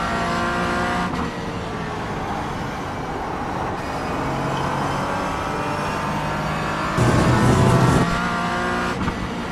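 A race car in a sim racing game revs and grinds steadily uphill, its engine drone with shifting tones continuous throughout, briefly louder near the end as braking and gear changes come in.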